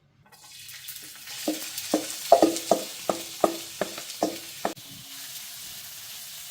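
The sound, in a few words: onions cooking in hot olive oil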